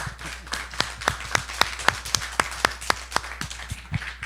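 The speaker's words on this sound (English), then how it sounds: "just give them a big round of applause" A small congregation at a Unity Church of Hawaii town hall claps for the preschool, sparse individual claps sounding distinctly in an irregular rhythm over a low steady hum.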